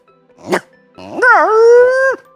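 A human voice imitates a dog: one short sharp bark, then a long, drawn-out howling yelp, loud and close.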